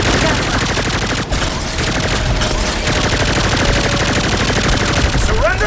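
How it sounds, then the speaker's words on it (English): Sustained, dense gunfire rattles at an RV in Saints Row, a steady loud barrage of rapid shots with a droning engine beneath and brief shouting voices mixed in. "They're shooting the RV!"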